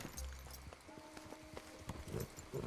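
Rhythmic clip-clop of horse hooves at an easy pace in the video game Red Dead Redemption 2, fairly quiet, with faint ambient sounds and a low tone in the background.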